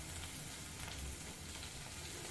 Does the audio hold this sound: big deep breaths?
no